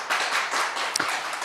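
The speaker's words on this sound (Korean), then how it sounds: "우리 원장님께 한번 큰 박수 한번 보내주시면 좋겠습니다" A lecture audience at a Christian bioethics association event gives a short burst of dense, even applause, close and filling the whole moment.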